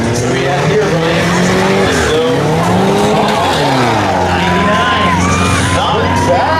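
Car revving hard and accelerating up a ramp at a Car Wars ramp competition, loud engine with tire squeal over a crowd and commentators talking throughout.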